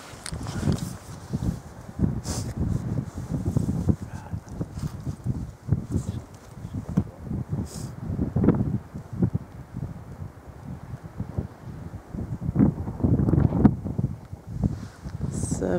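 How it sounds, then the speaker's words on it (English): Gusty wind blows outdoors at night, a steady rumbling buffet on the microphone with occasional rustling and shuffling footsteps, moderately loud throughout with stronger gusts near the middle and end. "It's pretty windy tonight"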